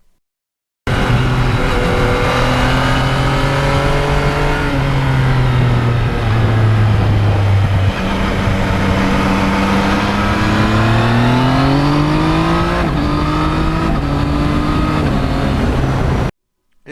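A Yamaha MT-09 motorcycle accelerates hard through the gears with a quick shifter, its loud close engine note rising and dropping in quick successive steps on each upshift.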